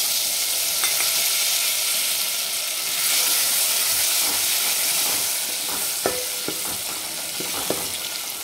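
Finely chopped country tomato sizzles in a hot pan of oil with fried chilies. A steady, loud hiss runs throughout, with a few sharp stirring clicks near the end.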